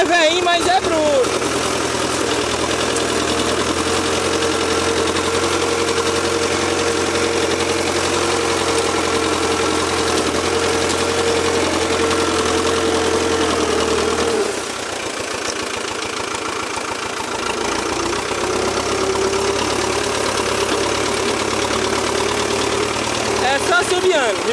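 An old 1986 Valmet tractor engine runs steadily at a low, throbbing idle with a knocking mechanical vibration. It sounds loud and close, drops briefly in level partway through, and someone talks over it throughout.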